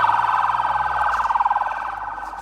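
An ambulance siren wails in northern Gaza with a fast, pulsing warble that sweeps slowly downward, loud and steady throughout with no voices over it.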